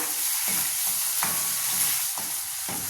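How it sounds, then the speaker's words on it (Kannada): Tomatoes being stirred into a moong dal khichdi in a hot pan, with a steady sizzle of frying broken by several short scraping strokes of the spoon, close and clear with no talk. "ಹಾಗೆ ಟೊಮೊಟೊನ ಸಹ ಮಿಕ್ಸ್ ಮಾಡ್ತೀನಿ ಮಿಕ್ಸ್ ಮಾಡಿ ಒಂದ್ಸಲ"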